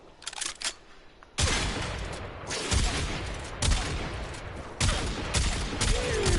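Quartakk rifle in the video game Warframe letting off rapid, loud gunfire in several dense bursts, each a string of quick overlapping shots close up, separated by short gaps after a quieter start.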